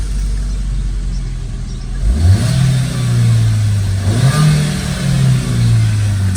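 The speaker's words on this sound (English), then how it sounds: "before we fit the exhaust system, she sounds like this." A 2012 Chevrolet Utility with a 1.4 engine and stock exhaust idles low and quiet, then revs up twice in rising, falling swells that stay fairly subdued, with no one speaking.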